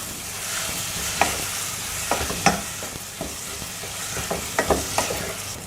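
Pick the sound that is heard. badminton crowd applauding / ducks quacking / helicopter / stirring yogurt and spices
stirring yogurt and spices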